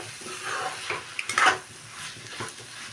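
Rohu fish curry with ash gourd cooking in a pan, giving a soft sizzle with a few brief scrapes and clinks of a spatula against the metal, close and fairly quiet.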